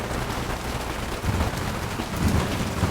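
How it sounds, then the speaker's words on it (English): Rain falls outdoors as a steady, soft, broadband hiss, with a few low rumbling swells beneath it and no voices. "it was raining harder than this just a few minutes ago"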